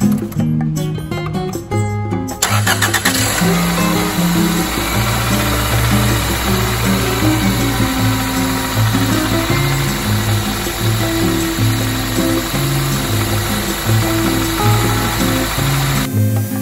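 A car engine that has been burning oil, with motor flush added, cranks briefly, then catches and settles into a steady, loud idle with a constant low rumble and a high whine running throughout, no knocking or clicking.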